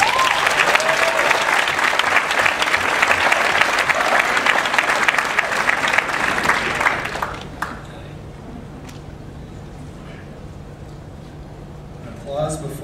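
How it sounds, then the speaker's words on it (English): An audience at a PechaKucha Night claps and cheers loudly for about seven seconds, then the applause stops abruptly and a quiet room remains. "Applause before I say anything, that's intimidating."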